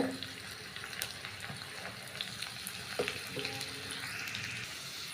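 Chopped garlic and curry leaves fry in hot oil in a kadai, a continuous crackling sizzle with small pops and occasional stirring clatter, close and fairly quiet, with no talking.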